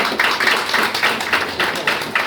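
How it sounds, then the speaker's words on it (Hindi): Meeting audience applauds with a dense, even run of hand claps, close and sustained, with some background voices underneath. "तालियां होनी चाहिए।"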